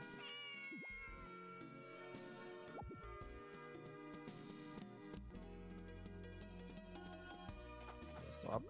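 Cat meowing in the farming game Harvest Moon: Magical Melody, several short meows over steady background game music, moderately close and clear.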